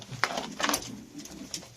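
Caged tumbler pigeons, kept as game birds, coo softly at close range in short, low, murmuring bursts over light background rustling.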